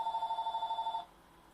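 A telephone rings in a fast pulsing trill of about a second, loud and close, then cuts off abruptly and leaves near silence.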